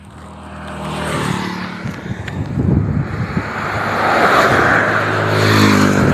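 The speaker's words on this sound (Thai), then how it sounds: "กลัวรถแซงกันมาก รถแซงกัน" Cars overtake on a roadside, heard as a rising, rushing roar of passing traffic with wind buffeting the microphone, growing louder toward the end and heard without talking.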